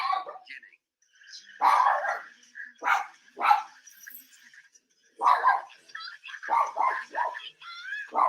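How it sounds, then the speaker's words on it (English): Dog barks in several sharp bursts with whimpering yips between them, fairly close and loud, separated by short silences, during a Phillies versus Braves playoff game broadcast. "Should be barking at something or someone"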